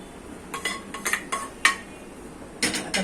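Roasted poppy seeds are tipped from a pan onto a metal plate, giving a few light metallic clinks and scrapes, close by and brief, with soft pauses between.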